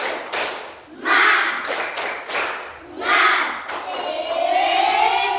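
A classroom group doing a rhythmic spirit clap, bursts of loud, patterned clapping in several waves with pauses between, mixed with children's shouting voices.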